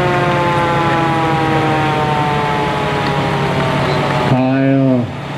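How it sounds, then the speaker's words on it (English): A loud, close ambulance siren wails in a steady tone during a Fourth of July parade, dropping sharply in pitch near the end before cutting off. "Second ambulance."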